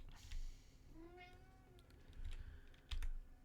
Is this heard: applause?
no